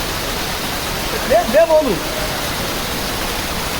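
Floodwater rushes past in a continuous, loud roar as a landslide flood in Mundakayam sweeps a water tank away, and a voice briefly speaks over the torrent.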